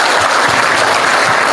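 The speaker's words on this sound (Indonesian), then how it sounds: "Tepuk tangan saya." A crowd at an evening religious gathering claps steadily, a dense wash of applause heard alone and fairly loud throughout.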